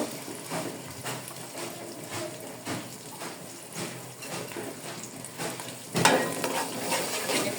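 Mixed Radhuni roast masala paste hitting a hot pan in a home kitchen, a steady close sizzle with scraping stirring strokes, swelling louder near the end as the paste spreads.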